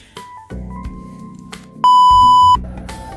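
A hotel elevator gives a single loud electronic beep lasting under a second, a steady pure tone standing out over low ambient hum and background noise.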